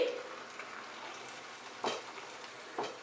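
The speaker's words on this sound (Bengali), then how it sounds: "টমেটো পিউরিটা দিয়ে ভালো করে মশলার সঙ্গে মিশিয়ে নিচ্ছি।" Tomato puree and spices frying over medium heat in a pan for a dhaba-style spicy paneer, a soft steady sizzle with two brief scraping stirs, fairly quiet and without talk.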